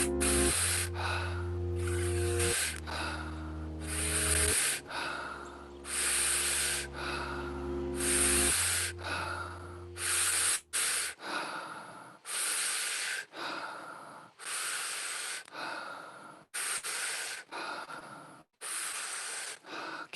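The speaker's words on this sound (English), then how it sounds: "Keep the breath moving." Forceful, rhythmic breathwork with sharp nasal inhales and exhales, repeated in quick bursts over low sustained music tones at the start, then carrying on alone as a steady, close cycle of loud breaths.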